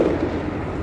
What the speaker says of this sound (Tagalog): Kahit na February na, may mga paputok-putokan dito.